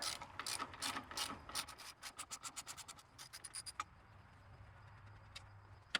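A ratchet fitted with an extension clicks in quick bursts while loosening a 15 mm nut on a Mercury 60HP outboard motor, sharp close-up ratcheting strokes that stop near the end.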